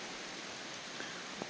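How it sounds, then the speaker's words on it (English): Rain falling at a lakeside campsite during an overnight canoe trip on Garnet Lake, a faint, steady hiss of drops with a couple of soft louder taps, no voices. "But it's raining, coming down pretty good."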